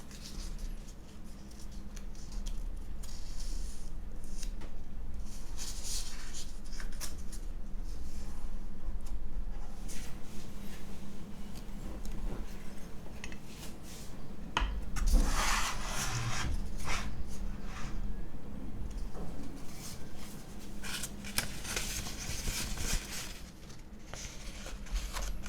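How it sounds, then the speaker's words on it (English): A paper coffee filter is folded by hand for a pour-over brew, giving soft, close crinkles and rustles that continue steadily throughout, with no voices. "fold your filter paper so that it fits the apparatus."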